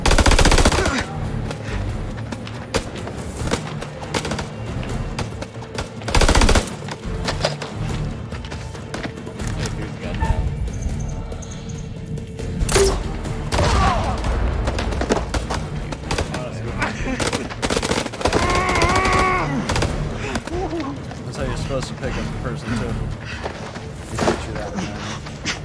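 Gunfire in the video game House of Ashes, loud bursts of automatic shots and single cracks scattered through a tense combat scene, with people talking and shouting over it.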